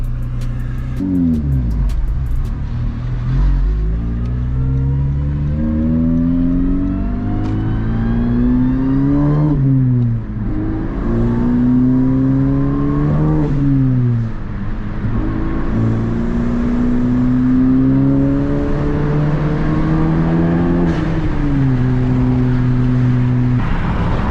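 A Honda Civic Si accelerates hard through several gears, its engine climbing loud and close in repeated rising sweeps broken by short dips at each shift, all heard from inside the car.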